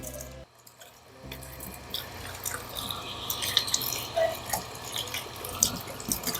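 Water gushes steadily from a tap, a broad continuous splashing rush after a brief quiet moment at the start, with small drips and squishes mixed in.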